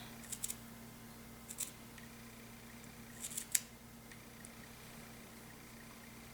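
Sharp scissors snipping through a crocheted steek, a few quiet crisp cuts in separate bursts over a steady low hum, with no talking.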